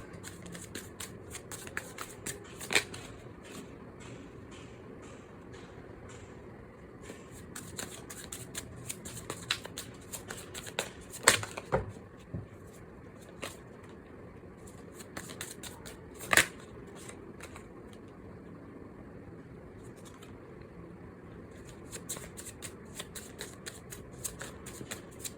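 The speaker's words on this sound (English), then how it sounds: "we'll just pull out few tarot cards. I've already pre-shuffled the deck" A tarot deck being handled: cards shuffled, slid and pulled one by one, giving soft papery riffles and sharp flicks at irregular intervals, close and fairly quiet, with no talking.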